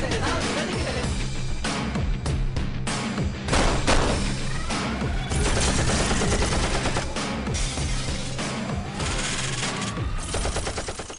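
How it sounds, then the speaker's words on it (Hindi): Gunfire in a movie scene, dense bursts of machine-gun and rifle fire rattling continuously and loudly, with thuds and impacts mixed into the barrage throughout. "मुझे सिर्फ बंदूक और बंदूकों की आवाज और रजनीकांत अंकल नजर आए हैं"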